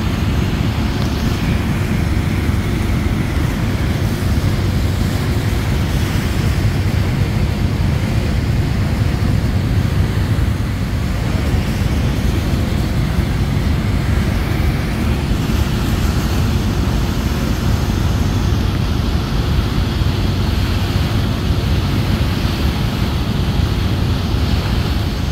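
Passenger launches Manami and Surovi 8 racing side by side on a river, heard as a steady, loud rush of engine drone, wind and churning water that runs unbroken throughout.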